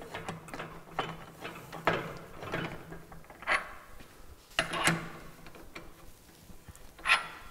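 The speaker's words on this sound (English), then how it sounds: "Taking our tool here, we then tighten down the screws." Screws on a 205-litre drum mixer and tumbler being tightened with a hand tool: a close series of uneven metallic clicks, ratcheting and clunks, with a few louder knocks, no talking.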